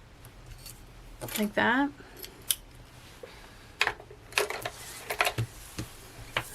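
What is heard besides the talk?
scissors cutting paper tabs into rectangles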